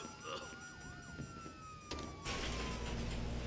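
Police car sirens in the video game GTA 5, wailing tones sliding up and down at moderate distance under in-game noise, cut off by a sudden loud rushing roar near the end.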